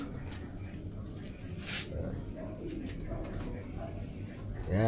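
Paired breeder pigeons coo softly in a loft at night amid a low steady background hum, with faint chirps and brief rustling nearby.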